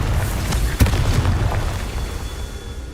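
Fire-spell blasts in the Hogwarts Legacy video game: a few booming bursts, one sharp loud crack near the middle, over a rumbling low bed of game noise.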